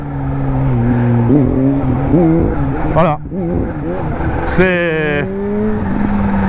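A Kawasaki Z H2 motorcycle engine revs in short bursts, pitch climbing and dropping twice over a steady idle drone, close and loud, with someone talking throughout.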